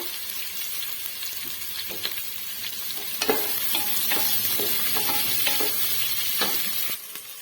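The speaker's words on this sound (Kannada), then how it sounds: "ಚೆನ್ನಾಗಿ ಫ್ರೈ ಆಗಲಿ ಈರುಳ್ಳಿ" Onions frying with curry leaves for wheat rava upma, a dense, close, continuous sizzle with scattered stirring scrapes and clicks, no voices.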